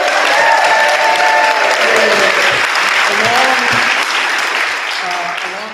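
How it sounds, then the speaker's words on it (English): Audience applause for a new president at a music group's rehearsal, dense clapping with voices calling and cheering over it, staying loud before easing off slightly near the end. "can we give a round of applause for our new president, Sue?"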